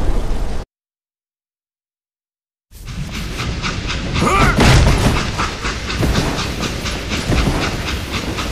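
A train rumbling along in Call of Juarez: Gunslinger, with rhythmic clattering and hissing, loud and close, after a brief silence at the start.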